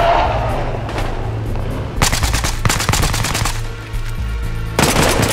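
Rapid automatic gunfire in the video game Battlefield Hardline, loud close bursts of repeated shots separated by brief pauses, with a low background hum.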